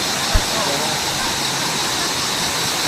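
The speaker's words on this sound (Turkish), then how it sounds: "Şelale gibi. Suyu çok fazla." Heavy flow of a mountain stream pouring like a waterfall at Sugözü on the Anamur plateau makes a steady, loud broadband rush, with one brief low thump near the start.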